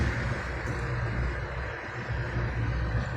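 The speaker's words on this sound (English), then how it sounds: "I'll wait for this truck to pass." A truck passing outdoors, a low, steady rumble that swells slightly and fades over a few seconds, moderately distant with no talking.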